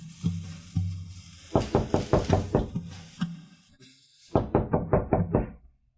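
Rapid knocking on a wooden door comes in several bursts: a few slow raps, then a quick run of knocks, a pause, and another rapid series, close and loud with no talking.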